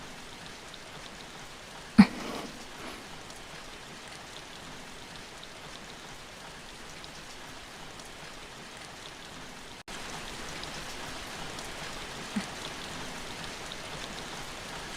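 Steady rain falls in an animated drama scene, a soft continuous hiss with one sharp knock early on, and the wash grows slightly louder partway through.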